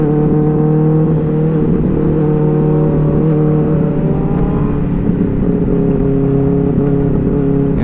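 Three superbikes, including a Kawasaki Z900 and Benelli 600i, drone together on a night ride, a loud, continuous layered exhaust hum with slight revving swells throughout.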